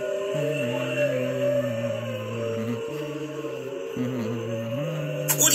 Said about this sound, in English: That's because it's a whale song made by humpback whales.